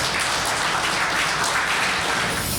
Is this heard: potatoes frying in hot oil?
no